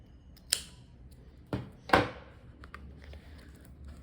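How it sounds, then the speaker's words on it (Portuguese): Scissors snip yarn while a handbag is being stitched, giving a few short, sharp cuts at close range over a quiet background. "Agora, eu vou cortar esse fio."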